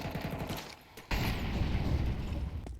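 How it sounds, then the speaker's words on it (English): Rapid AK rifle fire in a competitive video game match, a dense burst of loud gunshots that jumps in sharply about a third of the way in and keeps rattling to the end. "AK is going to allow him the accuracy he desires."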